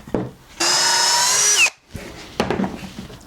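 A power drill drives a pocket hole screw into birch plywood with one loud, steady whirring burst of about a second that winds down sharply, followed by quieter handling knocks.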